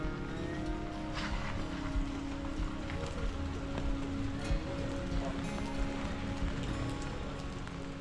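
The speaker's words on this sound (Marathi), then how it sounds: "आणि आजचा दिवस संपला अचानक आलेल्या पावसाने." Sudden rain falling on a day out in Georgia, a steady close patter on surfaces with scattered heavier drops and a low rumbling background throughout.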